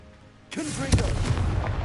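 Confringo blasting spell from Hogwarts Legacy, a sudden booming burst at about half a second followed by a sustained rumbling crackle with a second heavier impact shortly after, loud and close.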